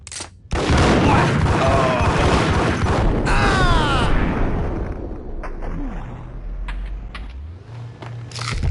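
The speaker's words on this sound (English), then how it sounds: "I'm not gonna die from this grenade again" Grenade explosion in the Max Payne video game: a loud, sudden boom that rolls into a long, roaring blast, then fades into rumbling debris and scattered sharp cracks.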